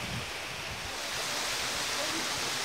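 Steady rushing water from a waterfall beside stone steps on a hiking trail, a continuous broadband roar filling the whole stretch, close and fairly loud with no talk over it.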